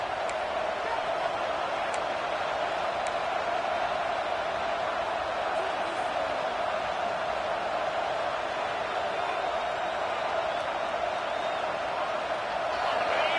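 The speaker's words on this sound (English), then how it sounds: "Decibels rising as the crowd gets behind this defense on third down" Stadium crowd at a championship football game roaring steadily on third down, a loud sustained wash of voices from all around with no break.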